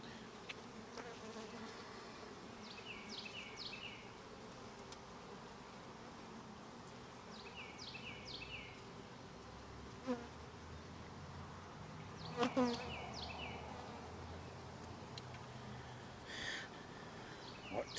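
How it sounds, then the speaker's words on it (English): Bees buzzing on a beehive frame, a faint steady hum in the background with occasional clicks and knocks, and little or no talk. "There's some very young bees on this frame too."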